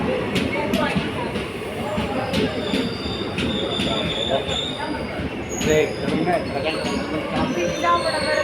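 The Ernakulam–Guruvayur unreserved express special train runs on the rails with a continuous rumbling roar, squealing wheels and rhythmic rail clatter, loud and close, with voices faintly mixed in.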